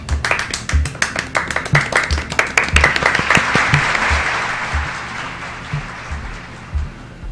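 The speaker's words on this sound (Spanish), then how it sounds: "Aplausos para el profe, por favor" A small group applauds the teacher in a school radio studio: sharp, uneven claps for about three seconds that thin out into a softer, fading patter.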